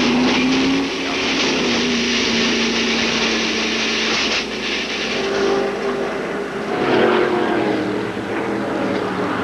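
Greg Sachs' NASCAR race car seen from onboard during the 1995 Busch Clash, with a loud, continuous engine roar and broadband wind and track noise that shifts in pitch as the car runs.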